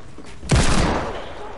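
A single sharp burst of video game gunfire cracks out loudly and close, then trails off in a decaying rumble.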